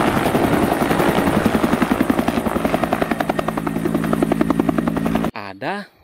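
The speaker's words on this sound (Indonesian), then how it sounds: "Ada helikopter" A helicopter sound effect with fast, loud rotor chopping held steady for about five seconds, then cut off and followed by a short swooping electronic tone.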